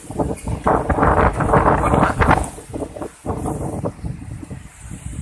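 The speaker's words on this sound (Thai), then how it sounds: "ตอนนี้ลมแรงมาก" A strong storm wind roars over an outdoor spot in rural Phetchabun province, Thailand, with loud continuous gusting and buffeting noise on the microphone that peaks early, then eases slightly while staying rough.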